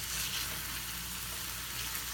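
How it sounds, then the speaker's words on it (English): Meat sizzles steadily while frying in a pan for Mexican street tacos, a continuous close hiss of fat and juices with no voices. "I love that sizzling sound."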